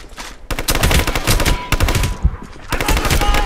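Gunfire in Hitman: Absolution, loud rapid bursts of automatic shots in dense volleys with a brief lull near the middle, heavy and close.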